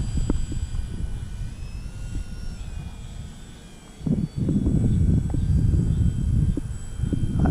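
A Bigfoot RC model airplane makes a slow, scale takeoff with flaps down, its engine drone droning steadily at moderate distance, then swelling louder and rougher partway through as it climbs.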